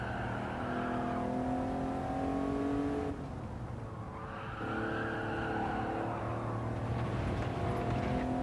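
A Maserati Merak's engine drones under load during a Gran Turismo 7 time trial, its pitch climbing through gears with a brief drop, alongside tire squeal, loud and steady throughout.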